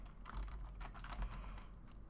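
Computer keyboard keys tapped in a quick, uneven stream while Django test code is written, close and fairly quiet with no speech.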